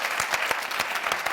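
A studio audience on a TV talk show applauds steadily, a dense wash of clapping at moderate level with no voices over it.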